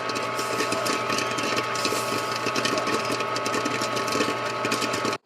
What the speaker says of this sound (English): Which is literally a popcorn machine doing its thing